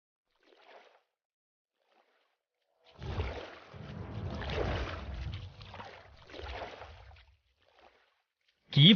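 A boat moves across water with a few soft splashes and sloshing strokes, quiet and close, separated by near-silent gaps and ending in a sudden sharp burst.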